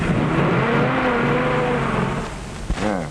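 A police car engine hums and revs, building as the car pulls away, with a short thump and a rising whine near the end.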